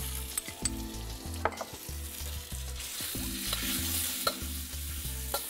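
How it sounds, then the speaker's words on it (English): Beef stir-frying for an ong choy stir fry, sizzling loudly in a hot pan, with repeated close scrapes and stirring clatter over a constant frying hiss. "now we're gonna add"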